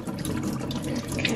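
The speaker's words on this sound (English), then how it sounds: "And then I'm going to wash it to get the rest of the spines off." Running tap water pouring over a prickly pear as it is washed to remove spines, a steady close splashing flow with small fluctuations from hands turning the fruit.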